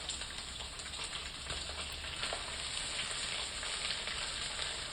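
Tender tamarind leaves and green and dried chillies roasting in a pan on a stove, a continuous soft crackling sizzle with faint scattered pops, steady and fairly quiet, with no voices.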